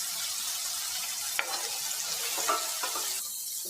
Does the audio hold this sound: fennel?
yes